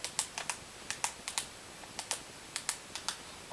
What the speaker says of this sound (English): I'll use my little keypad now to type in Real Time.